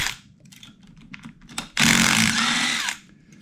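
An impact wrench bursts to life on the top end of a Honda ATC125/TRX125 three-wheeler engine during teardown, a loud, sustained mechanical whir of about a second after some quieter clicking and handling noises.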